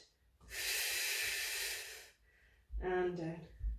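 A big breath exhaled hard through the nose during a Pilates exercise, a long close hiss, then a short pause before a voiced breath with a throaty sound.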